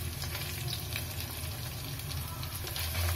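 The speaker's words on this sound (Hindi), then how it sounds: "मसालों को अच्छे से भून लेना है।" Spices fry for matar paneer in a pan, a close, steady crackling sizzle with light stirring scrapes throughout.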